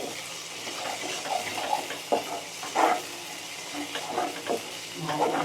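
Green chili paste and spices sautéing in a pan give soft sizzling with intermittent scraping and stirring bursts, fairly quiet and close, with no talking over it.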